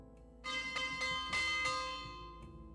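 A church bell rings out in an Agatha Christie Death on the Nile video game, several strong resonant strikes with long ringing harmonics that slowly fade, clear and alone with no voices.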